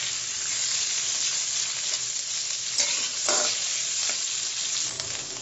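Potatoes with cumin seeds fry in hot oil, giving a steady, loud, close sizzle with a few brief stirring scrapes and no voices.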